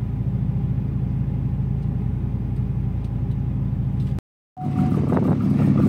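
A Hyundai Tiburon with a naturally aspirated 2-liter Beta engine on big camshafts, about 250 horsepower, idles with a loud, close, lumpy rumble, then cuts out briefly and returns with a rougher note, no voices.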